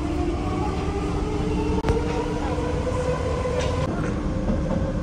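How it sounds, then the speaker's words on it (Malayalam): A Paris metro train pulls into a station, a steady rumbling rail roar with a sharp click partway through and a higher whine rising near the end, no voices. "ഫൈനലി മെട്രോ വന്നിരിക്കുകയാണ്."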